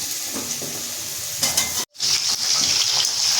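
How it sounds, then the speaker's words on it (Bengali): Pumpkin and potato pieces frying together in a hot oiled pan give a steady sizzle, broken by spatula stirring scrapes, a brief pause in the middle, and then a louder, brighter sizzle. "এবার আমি দিয়ে দিচ্ছি কুমড়ো আলুর সঙ্গে ভেজে নেব"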